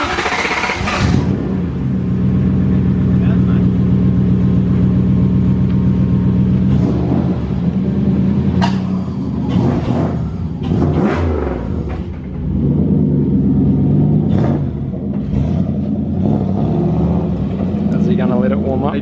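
A Toyota Cressida with a swapped-in 1UZ V8 rumbles at idle and revs, loud and close, with people talking over the engine.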